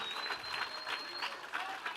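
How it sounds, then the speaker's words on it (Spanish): Faint, steady applause from a church congregation during a bilingual sermon, a dense wash of many hands clapping at a distance with a thin whistle-like tone running through it. "Vamos a darle un fuerte aplauso al Señor"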